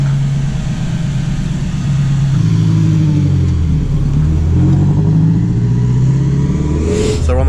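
The HOELUX car running again after a fuel pump repair, its engine a loud, close, throaty drone that climbs in a couple of revving swells and then settles, with no voices.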